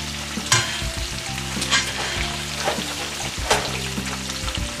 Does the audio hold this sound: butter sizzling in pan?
yes